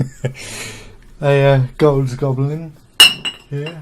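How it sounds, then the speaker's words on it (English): Two glasses clink together once in Fallout 4, a single sharp, bright chime near the end, surrounded by someone talking. "That was a sound of two glasses being hit together."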